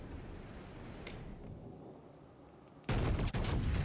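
German battleship Bismarck firing its main battery guns in World of Warships: quiet ambient hum first, then a sudden, massive close-range salvo blast that roars on with a second crack near the end.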